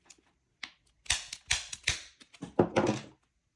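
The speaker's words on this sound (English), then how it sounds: "what I'm going to try and do is bump it open" A bump key is struck against a Yale KTM 3-star euro cylinder lock, giving a handful of sharp metallic taps and clicks in quick succession, close and clear against silence.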